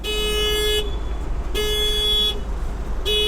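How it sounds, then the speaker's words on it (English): Honda City horn beeping remotely from a car-finder command, in three sustained loud tonal blasts separated by short gaps, close by with no talking. "I started the beeping of the horn and blinking of the lights remotely"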